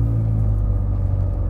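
Ferrari 430 Scuderia V8 with a straight-pipe exhaust, a deep steady rumble held close and loud throughout without talk.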